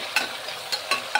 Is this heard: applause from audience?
no